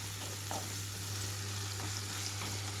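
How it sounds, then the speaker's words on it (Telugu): Bajji chilli pieces fry on low flame in a pan with a constant soft sizzle, a low steady hum underneath and occasional faint stirring scrapes. "కలుపుకుంటూ మధ్య మధ్యలో వేయించుకుంటూ ఉండాలి."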